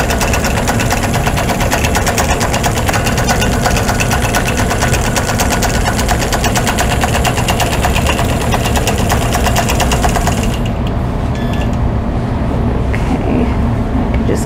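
A sewing machine basting across a quilt top runs steadily and loudly for about ten seconds with a continuous whirring drone, then stops, leaving a quieter hum and light handling noise.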